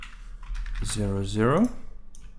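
Keys tapped on a computer keyboard while entering numbers into a dashboard design in Adobe XD, the clicks sitting under a person speaking.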